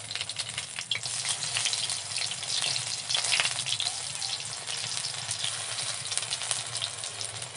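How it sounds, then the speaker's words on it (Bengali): Chicken pakoras deep frying in hot oil over low heat, a steady dense sizzle and crackle that fills the whole stretch without a break, close and fairly loud, with no voices. "পকোড়াগুলো খুব আস্তে আস্তে জাল দিয়ে ভাজতে হবে"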